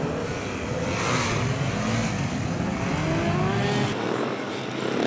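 A motorcycle engine revs and drones continuously during a gymkhana competition run around pylons on a tight, slow-turn course, loud and steady with shifting pitch as the rider accelerates and brakes.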